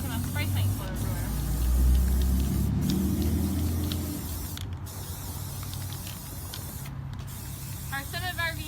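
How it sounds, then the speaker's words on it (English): A spray paint can hisses in steady bursts with brief pauses outdoors on a windy day, over a low rumble of wind and some faint creaking. "making my spray paint flow everywhere"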